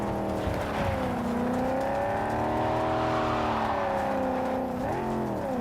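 Steady, loud engine drone of cars driving in the video game Persona 5 Royal, a continuous humming whir that rises and falls slightly in pitch, with a brief dip and rise near the end, no talking.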